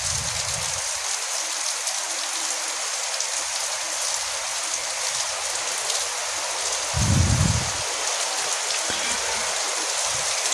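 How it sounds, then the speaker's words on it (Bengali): Heavy, steady rain falls on a village, a dense continuous hiss of drops on surfaces with a brief low rumble midway and faint voices in the background. "সকাল থেকে অবিরত বৃষ্টি হচ্ছে"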